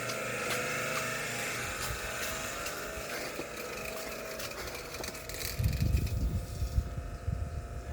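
A small high-pressure sewer jetter cleaning silt from a 150 mm stormwater drain pipe runs as a loud, continuous motorized drone, with a heavier churning rumble building near the end.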